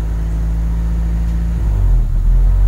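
A Honda City 1.5i ESP engine with an unstable idle, a loud, close low rumble that wavers and dips in pitch partway through, with no talking.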